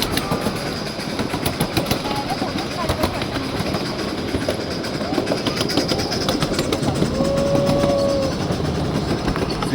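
Miniature train ride on the Burnaby Central Railway, with a steady rumble and clatter of the small cars rolling along the tracks up close and a brief squeal near the end, continuous throughout.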